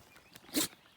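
A single quick, soft sneeze, brief and isolated against a quiet background, on a cold morning during a riverside camping trip.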